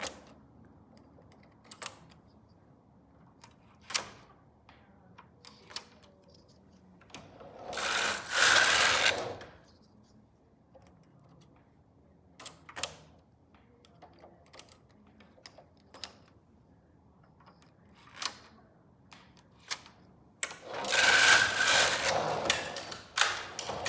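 A Silver Reed knitting machine knits rows, its carriage swept across in two loud rasping passes, separated by scattered clicks and taps of needles and handling in an otherwise quiet room.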